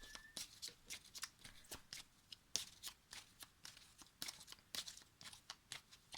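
Oracle cards are shuffled by hand, close and soft, in a string of quick papery riffles and slaps at an uneven rhythm, with nothing else in the background.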